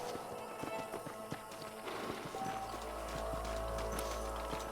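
Horses in the Red Dead Redemption video game as riders dismount, with rhythmic hoof clip-clops and shuffling steps up close, then a low rumble rising beneath them toward the end.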